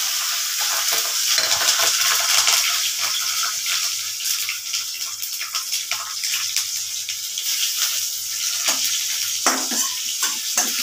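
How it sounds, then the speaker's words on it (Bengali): Bay leaf, white cumin and chilli crackle in hot oil, a dense, loud, continuous sizzle heard up close with a few brief spatters and stirring scrapes near the end, no speech. "তেজপাতা দিয়ে দিলাম, আর এখানে সাদা জিরে আর লঙ্কা ফোড়ন দিয়ে দিলাম।"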